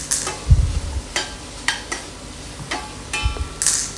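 A spatula scrapes and clanks in a wok as fried squid, prawns and chicken are tossed with sautéed onion for nasi goreng. Soft sizzling runs under several sharp, close metal taps, with no voices.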